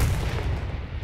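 Dense, rumbling blasts of bombs exploding in the World War II shooter game Hell Let Loose, loud and continuous for a moment with no one speaking.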